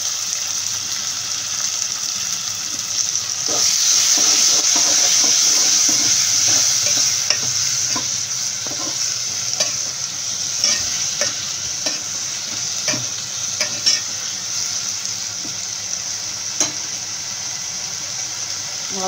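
Tomatoes with salt sautéing in a pan for okra tamarind curry, a steady sizzle with repeated stirring scrapes and clicks of a spoon throughout, close and continuous, no talking.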